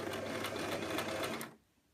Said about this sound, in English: that means that I now have a nice safe space in which to sew.